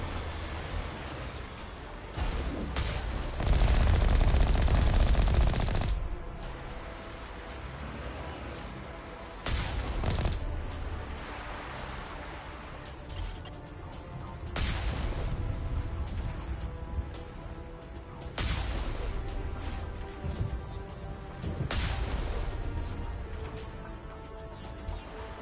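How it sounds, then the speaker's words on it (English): Artillery fire in Mass Effect Legendary Edition, a series of heavy distant thuds and crashes spaced several seconds apart over a low battle rumble, with a voice speaking between impacts. "We must find a way to disable their artillery."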